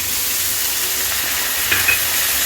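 Masala with whisked yogurt and a little water frying in a pan over low gas, giving a steady close hiss and sizzle with a faint stirring scrape near the end.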